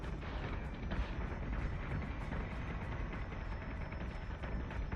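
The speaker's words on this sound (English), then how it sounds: "We're taking fire." Weapons fire and impacts in the space combat game BSG Deadlock form a dense, continuous rumble of booms and blasts at moderate loudness without clear pauses.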